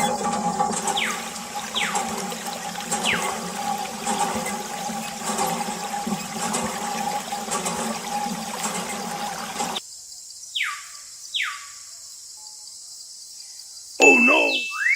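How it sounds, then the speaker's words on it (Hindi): Water spilled in a homemade toy setting: a steady trickling and splashing runs for several seconds, then cuts off, followed by a few faint clinks and a brief rising tone near the end. "Oh no! पानी गिरा दिया।"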